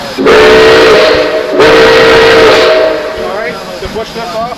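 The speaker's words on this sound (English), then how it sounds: "Go ahead and give me 2 toots on the whistle." Two loud, long blasts of the Nickel Plate Road 765 steam locomotive whistle, heard close from the cab, followed by hissing steam as someone speaks briefly.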